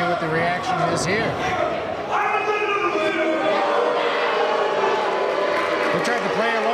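A wrestling crowd at a four-way match murmurs and reacts steadily in the background, a dense arena din running throughout beneath continuous commentary voices.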